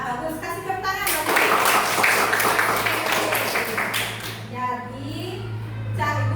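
A school class of children claps in applause for a couple of seconds, a dense patter of hands that fades out as a teacher speaks before and after.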